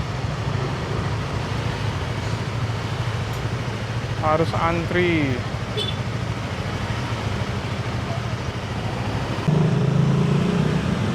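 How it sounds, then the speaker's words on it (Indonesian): Congested evening traffic of cars and motorbikes on a busy street in Seminyak, Bali, a continuous low engine rumble and hum with a brief horn-like tonal burst midway, while a person talks over it. "Ini macet."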